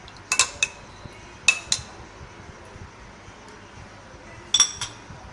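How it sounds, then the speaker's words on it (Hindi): A utensil clinks and scrapes against a bowl while an egg is mixed into naan dough ingredients with dry milk and soda, a few sharp, close clinks in small clusters over quiet background. "अब इसको अच्छे से हम मिक्स करेंगे।"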